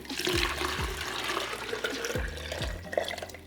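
Regular tap water splashes and gurgles steadily, poured into a container in a home, with a few low thuds and clanks from handling.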